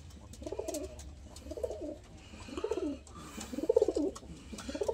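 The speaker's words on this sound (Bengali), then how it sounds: "এই মাদি পায়রাটা এনেছি" A female pigeon coos in soft, repeated rolling phrases, four or five throaty calls at close range over a low background hum.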